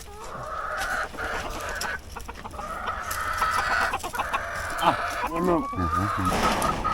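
Chickens clucking steadily with a rooster's call rising among them, under a busy outdoor background with faint voices.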